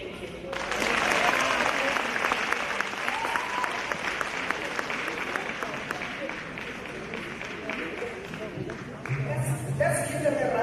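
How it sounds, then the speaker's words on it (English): Audience at a presidential summit on gender-based violence breaks into loud, sustained applause that starts abruptly and holds steady for several seconds, with crowd voices mixed into the clapping. "Let's give them a round of applause again."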